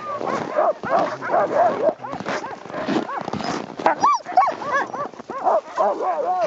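Sled dogs on Svalbard yipping, whining and barking excitedly in a dense, overlapping chorus, close and continuous, with high whimpers rising and falling throughout.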